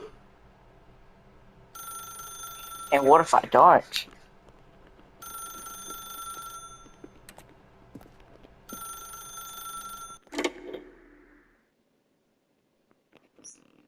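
A telephone rings in a video game: three separate bursts of bright, repeated electronic trilling, evenly spaced with short silent gaps between them. A voice speaks briefly between the rings.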